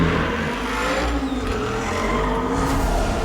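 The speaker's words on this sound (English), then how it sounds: "That was an Aston chasing an Aston." Aston Martin cars chase each other in the video game 007 First Light, their engines roaring steadily and loudly with rising revs and hints of tire squeal throughout, no voices.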